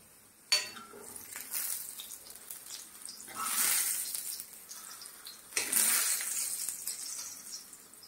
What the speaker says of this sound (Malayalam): ഇനി നമുക്കിത് ഈ കറിയിലേക്ക് ഒഴിച്ചു കൊടുക്കാം